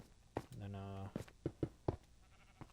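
A Minecraft sheep bleats once, a short wavering nasal call in a hardcore survival game, set among game clicks and footsteps. A nearby voice talks quietly around it.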